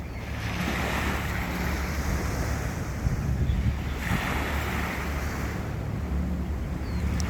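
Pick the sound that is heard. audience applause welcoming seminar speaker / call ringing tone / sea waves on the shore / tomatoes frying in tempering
sea waves on the shore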